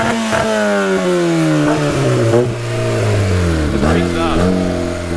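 A quad-turbo Honda Civic engine revs hard on two-step launch control, its loud, steady bark rising and dipping in pitch as the rev limiter holds it up close, with no break in the sound.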